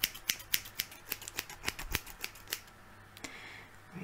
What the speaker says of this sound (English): the sounds of the scissors,